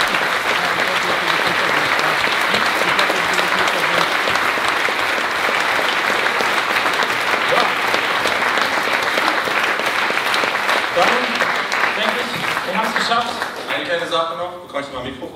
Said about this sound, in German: Und für die bitte ich noch mal um einen großen Applaus.